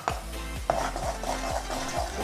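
Garlic powder and seasoning are stirred into food in a pan with a spoon, giving a series of evenly spaced scraping strokes close up, about five in a couple of seconds.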